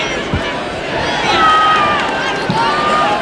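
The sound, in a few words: football crowd cheering a goal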